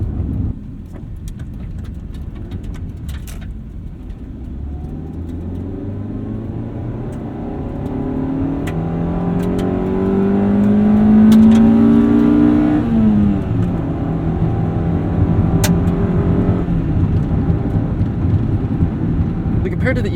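A Honda Civic Si engine drones from inside the car while driving, its note climbing as it accelerates and then easing off. A person talks over the steady road and engine noise.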